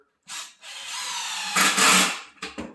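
A power drill drives screws into a plywood cabinet in a few close, loud bursts, the motor whining up and stopping with short pauses between runs.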